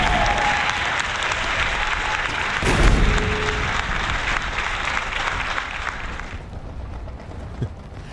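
Canned applause from a soundboard during a Halo Infinite stream, a sustained crowd clapping and cheering roar with a brief louder swell, fading out near the end.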